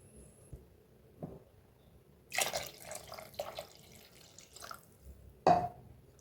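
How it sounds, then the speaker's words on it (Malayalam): Water poured into a pan for fish curry, a few short splashing pours separated by quiet gaps, the loudest splash near the end, close and clear with no talking. "ഇനി മീന് വേവാനുള്ള അത്രയും വെള്ളം കൂടി ഇതിലേക്ക് ഒഴിച്ചു കൊടുക്കാം"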